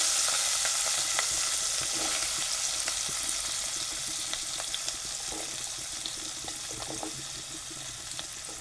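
Onion frying in a pan after garlic paste, a soft, steady sizzle with a few light clicks and faint watery crackle, fairly quiet and close, no talking.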